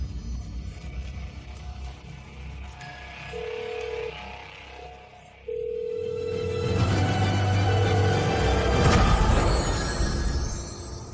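A telephone call on speakerphone reaches a busy line, giving steady electronic beeps and tones over a low room rumble, with no one speaking.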